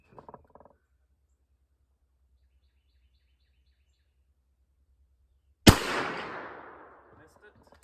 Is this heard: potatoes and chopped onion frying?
no